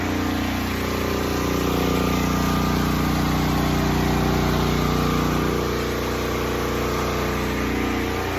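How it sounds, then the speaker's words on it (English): A 12,000-watt portable generator powering a house runs with a steady, loud engine drone, holding an even tone throughout with a slight dip in pitch partway through. "We are powering the house with his portable generator"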